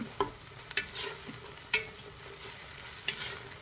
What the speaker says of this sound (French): on n'arrête pas de remuer